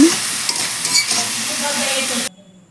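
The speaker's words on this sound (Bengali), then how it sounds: "জল দিয়ে দিলাম যেন মশলাটা ভালো করে কষানো হয় তো আমি যে মশলাটা ভালো করে কষিয়ে নিচ্ছি" Spice paste, loosened with a splash of water, is stir-fried in a pan for a tengra fish curry: a loud, close, continuous sizzle with scraping stirs that cuts off abruptly near the end.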